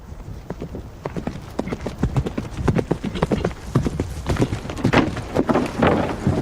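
Medieval cavalry horses charge toward a shield wall, a dense, rapid clatter of many galloping hooves that builds louder and closer throughout.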